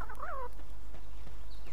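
Chickens in the video game Palworld give a short clucking call, a brief bright squawk at the start followed by faint ambient game sounds.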